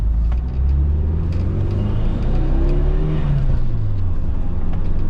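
A Mitsubishi Eclipse GSX engine idles steadily at about 1,000 rpm after a head rebuild, with a loud, even low rumble and faint whirring, close by and without speech.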